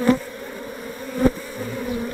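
A steady, low insect drone of many honey bees in a hive fills the air close by, with a couple of brief louder swells as the buzzing shifts.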